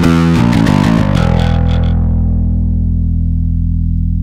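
A bass guitar played through a First Act distortion pedal blended with compression rings out in a few quick, gritty notes, then a last note sustains long and smooth as the fuzz slowly fades.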